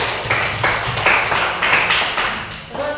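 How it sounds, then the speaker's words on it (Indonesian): Children in a third-grade primary classroom clap their hands together in a quick patterned rhythm, sharp close bursts grouped in short beats, led as a class clapping routine during a maths lesson. "tepuk tangan buat kita semua."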